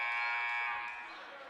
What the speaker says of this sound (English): Yamada, bank shot up and good at the buzzer.